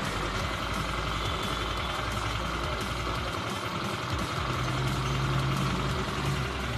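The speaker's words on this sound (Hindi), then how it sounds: "आप सुनो गाड़ी की साउंड।" Rebuilt Mahindra Gusto scooter engine idling steadily after a full overhaul, a continuous close, loud hum with slight rhythmic pulsing, running alone without talk.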